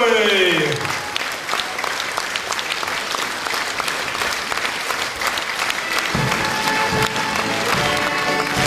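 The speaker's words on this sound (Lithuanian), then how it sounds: "Plojimai poetui Albinui Slavickui" Audience applause for poet Albinas Slavickas at an anniversary celebration for a folk band, steady sustained clapping from a crowd lasting throughout, with a brief descending tone at the start.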